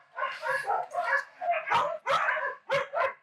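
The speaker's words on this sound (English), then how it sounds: "So these are native dogs to Korea. They honestly look like hounds mixed with Great Danes." Tosa dogs at a Korean dog meat farm give a run of short, close barks and whining yelps in quick bursts, loud against a quiet background.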